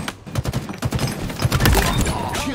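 Video game gunfire, a dense fusillade of rapid repeated shots, loud and close, continuing over the whole stretch with some chatter mixed in.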